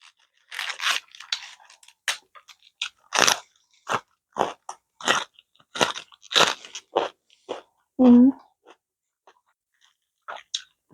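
Crunchy bites into fried homemade chicken meatballs, a run of sharp crisp crunches spaced through the stretch, close and fairly loud, with a short hum of approval partway through.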